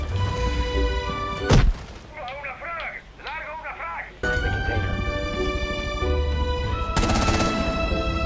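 Frag grenade blast in Rainbow Six Siege: a sharp, loud boom about a third of the way in, with game gunfire and effects around it while players talk over voice chat.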